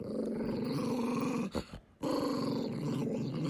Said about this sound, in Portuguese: Ali embaixo, eles emitiam uma espécie de rosnado, feito cachorros raivosos.